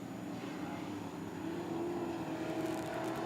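B Modified race cars at Springfield Raceway during a heat race, a steady engine roar that holds loud and continuous throughout, with no talk over it.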